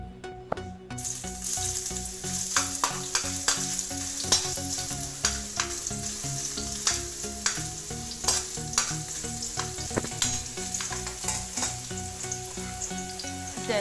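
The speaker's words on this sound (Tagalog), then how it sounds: "Gisa na tayo." Ginger frying in hot oil for pork paksiw, a steady crackling sizzle with clicks and scrapes from stirring throughout, close and clear with no voices.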